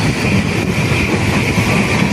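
A passenger train runs on rails near Villupuram in India, a loud continuous rolling rumble with rattling wheel noise, heard from on board.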